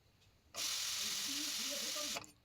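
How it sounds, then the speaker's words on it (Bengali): A kitchen pressure cooker lets off a single loud hissing whistle of escaping steam, lasting about a second and a half up close before cutting off sharply. "সিটি পড়ে গেছে"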